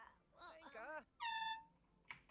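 A single blaring air horn in a Sims video game sounds a loud, sustained tonal blast lasting about a third of a second, following a stretch of speech-like game chatter.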